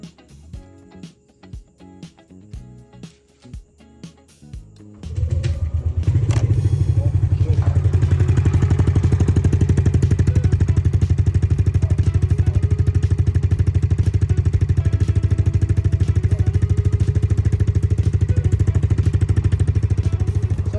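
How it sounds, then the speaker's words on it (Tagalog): A motor scooter's engine starts after an oil change, following a few seconds of light clatter and thumps, then idles loudly and steadily up close for the remainder. "Idle lang natin siya for about 5 minutes."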